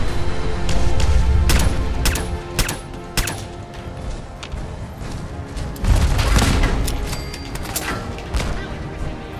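Gunfire aimed at the player in Fallout 4 survival mode, a dense clatter of shots and heavy booming thuds throughout, with louder bursts near the start and again midway.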